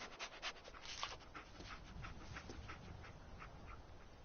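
Dogmeat, the dog companion in Fallout 4, panting steadily with quick rhythmic breaths, close and moderately quiet, no talking.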